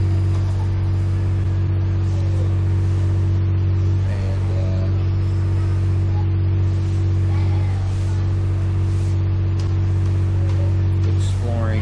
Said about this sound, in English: By the way, that noise you hear is a generator that they run.